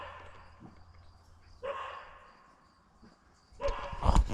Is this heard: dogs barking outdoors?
yes